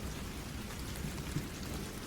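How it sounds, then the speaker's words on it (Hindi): Rain falls steadily in a dark, dense forest, an even wash of raindrops with no break, heard alone at moderate level. "बारिश की बूंदों की आवाज में उसके पैरों की आवाज दबी जा रही थी।"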